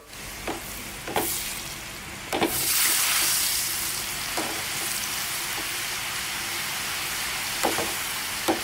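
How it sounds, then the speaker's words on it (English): Khao soi egg noodles frying in hot oil, a loud continuous sizzle with a few sharp spatters and clinks, swelling as more noodles drop in, no talk. "So we will fry them right away in some oil."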